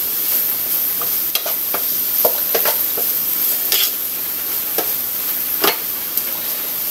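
Canned tuna is stirred in a hot pan, a continuous sizzle broken by sharp scrapes and clicks of a utensil against the pan at irregular moments.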